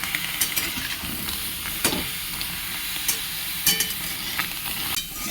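Long-cut drumstick (moringa) pieces and pointed gourd being stirred into spices in a hot pan, a steady sizzle with scattered scraping clacks of the spoon against the pan.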